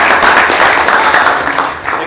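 Applause from a crowd at a tech meetup evening, a steady dense wash of many hands clapping at once, fairly loud and continuous throughout.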